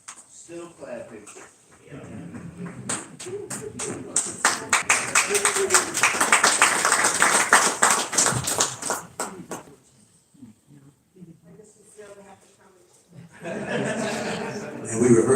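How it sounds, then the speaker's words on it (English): Audience clapping at a memorial service in a Detroit theatre, a dense burst of many hands building and then fading, with people talking before and after. "Still clapping."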